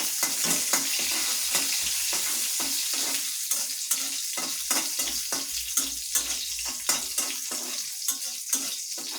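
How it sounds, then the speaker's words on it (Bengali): Chopped onion and green chili fry in oil for a dal tempering, with a close, bubbling sizzle broken by regular clicks and scrapes of stirring. "আমার পেঁয়াজ আর কাঁচামরিচটা ভালোভাবে ভাজা হয়ে গেছে।"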